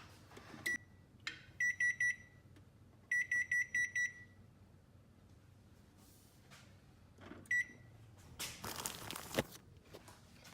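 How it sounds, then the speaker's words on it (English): A kitchen timer is set while lasagna bakes, giving several bursts of rapid high-pitched electronic beeps in short clusters, with quiet handling and rustling noises between them and no talk. "I'm gonna go ahead and put a timer to this."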